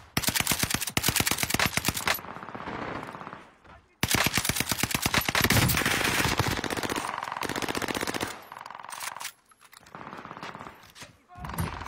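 Loud, rapid automatic gunfire rattles in long bursts during a military-style shooter video game, broken by brief pauses, with occasional voices.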